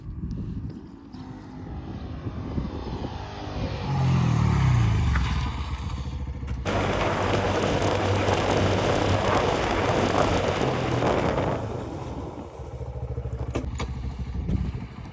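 A Honda Hornet 125 motorcycle rides up during a braking test, its engine rising to a loud steady roar before settling and stopping, with a rumbling idle afterward.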